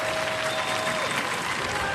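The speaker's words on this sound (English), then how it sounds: "Give them a round of applause." Studio audience applauding at a Robot Wars robot-combat show, a dense, steady burst of clapping filling the whole moment, with no voice over it.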